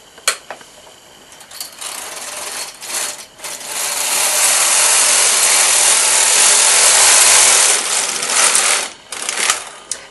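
A Brother knitting machine carriage, hand-fed with ravel cord, runs one row in a steady, loud mechanical whirr and rattle lasting several seconds. Clicks and shuffles of handling come before and after, with no talk.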